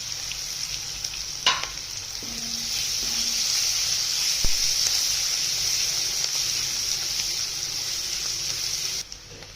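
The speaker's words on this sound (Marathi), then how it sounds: "कांदा चांगला नरम होईपर्यंत परतून घ्यायचा." Sliced onion sautés in a pan, a steady bright sizzle carrying on for several seconds with a couple of small clinks of stirring, then cutting off abruptly near the end.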